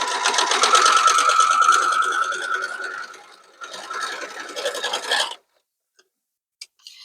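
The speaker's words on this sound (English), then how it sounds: "I'll quickly run that under the sewing machine." A sewing machine stitching quilt pieces with a rapid, buzzing run, a short pause, then another burst that stops abruptly, followed by silence and a couple of faint clicks.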